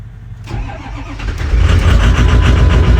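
Ford 6.0 Powerstroke diesel engine in a dentside truck body swap cold-starting, a short crank followed by a loud catch and steady rough clattering idle close up.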